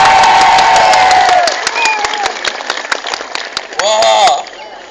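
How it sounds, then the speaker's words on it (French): An audience breaks into applause: sparse, evenly spaced claps ring out close by amid cheering and raised voices, then fade out near the end. "Enfin, les premiers applaudissements"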